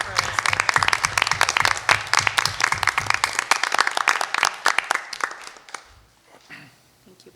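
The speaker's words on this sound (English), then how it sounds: "I just want to give them a round of applause for their service." A roomful of people applauds retiring teachers at a school committee meeting, dense clapping that runs steadily for several seconds, then thins to a few scattered claps and fades out near the end.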